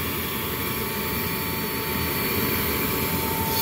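A Lennox furnace whines steadily during ignition, a continuous mechanical drone with a fixed high tone held at an even level throughout, with no talking.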